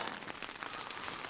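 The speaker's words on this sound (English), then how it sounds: "We're going on 4 hours now of rain" Heavy rain drums steadily on a tent during a thunderstorm with hail, a dense, continuous close patter with no breaks or talk.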